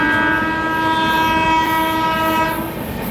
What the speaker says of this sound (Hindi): पता नहीं भाई कौन सी ट्रेन आ गई अचानक से।